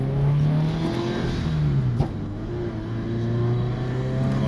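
Scion FR-S with a stage 2 turbo pulling hard in first gear, engine note climbing with a shift-like dip and a sharp pop midway, then rising again, loud and close.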